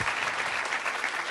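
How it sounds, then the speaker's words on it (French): Studio audience at a live broadcast applauding, a dense, even burst of clapping filling the short moment. "On peut l'applaudir bien fort"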